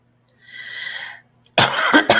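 A person gives a couple of sharp, close coughs in quick succession after a brief softer breathy sound, loud and abrupt against near silence.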